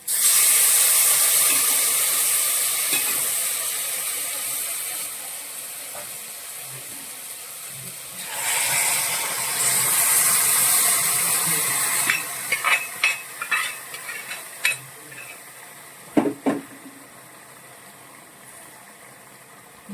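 Prawns dropped into well-browned masala in a pan for Kerala chemmeen kizhi, a bright sizzle that fades and returns, followed by a run of sharp scraping stirs and clatters of a spoon against the pan.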